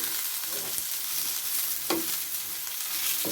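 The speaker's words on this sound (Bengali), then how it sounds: "সবগুলো বেজে নিই" Bitter gourd slices frying in hot oil, a steady close sizzle throughout with a soft stirring scrape partway through and no talking.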